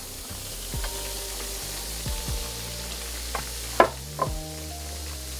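Flour cooks slowly in a hot skillet for a roux, giving a soft continuous sizzle and stir, with a few clicks and scrapes of a utensil against the pan.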